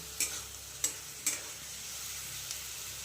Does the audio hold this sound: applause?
no